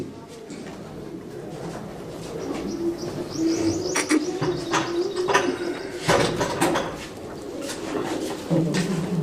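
Large, heavy Rajan pigeons kept by a fancier, cooing and chirping near and far in a steady mix, with faint rustling and a few knocks in the background.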